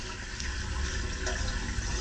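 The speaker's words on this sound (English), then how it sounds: "flush the toilet" A toilet flushes with a loud, steady rush of water filling the bowl and pipe, a continuous hiss and gurgle lasting throughout at close range.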